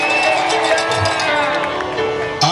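A crowd at an evangelistic campaign gathering in Kabwe cheers and acclaims loudly for Jesus, a dense sustained roar of many voices with bursts of shouting throughout.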